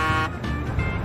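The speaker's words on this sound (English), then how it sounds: "the bulldog driving the 18-wheeler honks the horn" An 18-wheeler truck horn sounds in a short blast, loud and close, with the sustained tone breaking and dipping briefly before holding steady to the end.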